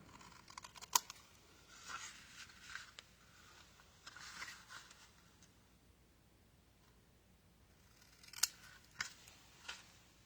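Scissors trim the edge of a paper card in quiet, crisp snips: a couple of light cuts early on, then a pause and a few more sharp clicks near the end, faint and close.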